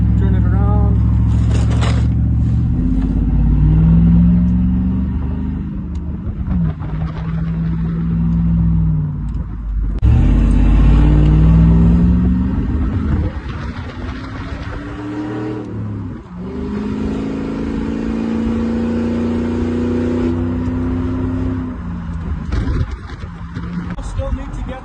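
A car with a 4L60E automatic transmission and a power wheels shifter drives and turns around, its engine rising and falling through repeated revs and shifts, loud and close, with a person talking over it.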